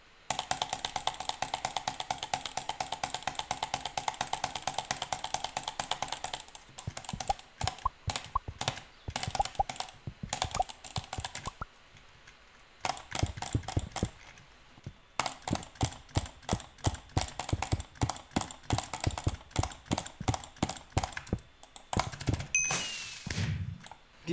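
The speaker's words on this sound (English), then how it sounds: "the first clicking method I want to try is the most common one, butterfly clicking" Rapid bursts of mouse clicks from butterfly clicking for Minecraft, dense trains of sharp clicks with short pauses between runs, close and crisp with no talking.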